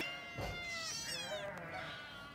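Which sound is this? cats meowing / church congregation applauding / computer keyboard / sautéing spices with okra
cats meowing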